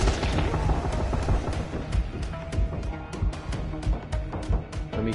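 Gunfire in the video game Dying Light, a busy, loud stretch of rapid shots and booming impacts layered over dense game noise, with a burst of quicker, crisper reports toward the end.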